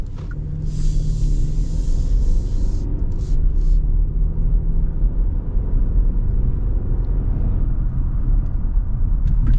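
A 2024 Kia Sportage X-Pro rolls over a bumpy road, its steady low rumble of road and engine noise continuous and loud from inside the cabin, with faint tire and suspension thumps.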